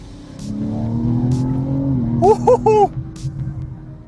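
A 2025 BMW M3 Competition Touring with its inline-six pulls hard on twisty roads, a steady rising engine drone shifting pitch midway, with a brief higher tonal squeal near the end, heard from inside the car.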